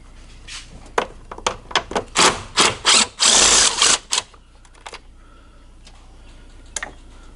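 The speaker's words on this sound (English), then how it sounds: "let's get our 10mm and remove these several fasteners here" A 10mm ratchet loosens the thermostat housing fasteners on a Dodge Dart 2.0L/2.4L engine: close, crisp clicking in short bursts, growing denser and louder in the middle, then thinning to a few sparse ticks.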